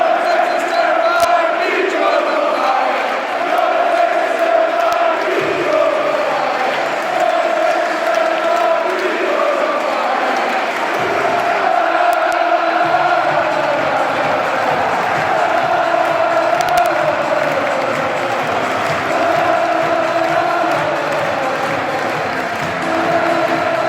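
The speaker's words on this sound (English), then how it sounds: "I did catch the crowd singing" A football crowd at Newcastle United versus Preston North End sings a chant, a loud, continuous mass of voices swelling and carrying on for the whole stretch in a large stadium.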